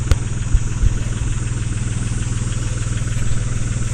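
A tractor engine runs steadily while grinding a large tree stump, a loud, close, low droning idle-like hum with a regular pulsing throb and a couple of brief knocks near the start.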